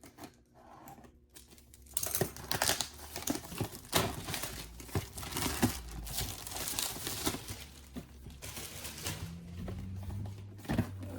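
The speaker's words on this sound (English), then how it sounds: "Let me go ahead and take this protective plastic wrap off it" Protective plastic wrap crinkles and tears as it is pulled off a Phenyx Pro PTG 11 wireless guitar system, a close, steady run of rustling crackles with sharper rips, no talking.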